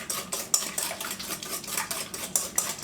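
Oatmeal breakfast casserole ingredients being stirred in a bowl, a steady run of scraping, clinking strokes from a spoon against the bowl, close and fairly faint, with no talking.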